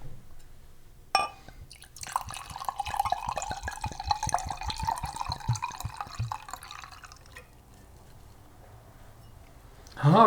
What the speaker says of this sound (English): Give it a good old ASMR pour.